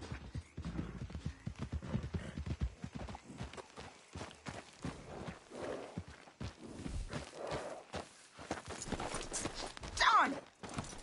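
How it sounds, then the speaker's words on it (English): A horse in the video game Red Dead Redemption 2 walks with quick, uneven clip-clopping hoofbeats and some scuffing. The horse snorts and a short whinny rises near the end. "Damn horse acting up on me, of all the times."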